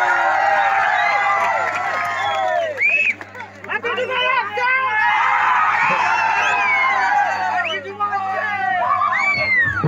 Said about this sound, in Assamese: club সকলে তালি বজাবো